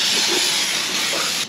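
Water spray hisses steadily while rinsing dust out of an engine bay during an oil-leak repair, a close, continuous broadband rush with no talk.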